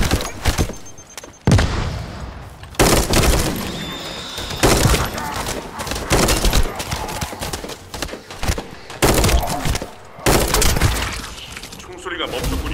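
Bursts of rapid gunfire in the PC game The First Descendant crackle and boom repeatedly, with short pauses between volleys and occasional sharp impacts.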